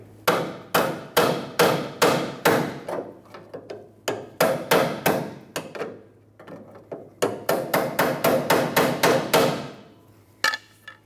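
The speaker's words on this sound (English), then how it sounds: "I'm gonna take a pry bar and a hammer on the end of the pry bar and just tap this" Repeated sharp metallic taps of a hammer striking a pry bar to free a brake proportioning valve bracket on a 1995-2004 Toyota Tacoma, coming in quick bursts of several blows with short pauses between.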